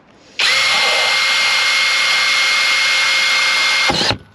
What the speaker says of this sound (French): Ce coup-ci, on la perce avant de... On fait un pré-perçage.